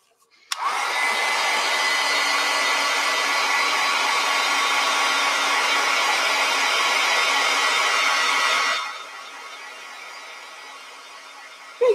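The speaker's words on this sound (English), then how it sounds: "And I'm going to dry that again." Hair dryer blowing on wet acrylic paint during a snowmen painting session, a loud steady whoosh that starts abruptly, runs continuously for about eight seconds, then cuts off into quiet.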